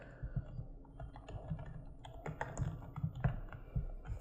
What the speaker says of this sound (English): Let's say I type in user.